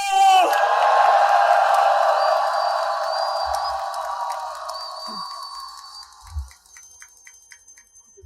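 A large crowd at an outdoor political speech in Gwangju lets out a big sustained roar with whoops that slowly fades over several seconds, leaving scattered thumps at the end.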